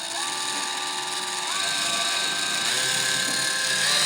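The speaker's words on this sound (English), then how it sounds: "We're just going to drill another one here." A power drill whines steadily while boring a hole into a drywall ceiling for a recessed light, its pitch stepping up twice as the motor speeds up, close and continuous.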